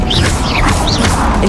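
In the Hogwarts Legacy video game, a Levioso levitation spell goes off as a loud, dense burst of magical whooshing, with rising and falling shimmering tones over a heavy rumble.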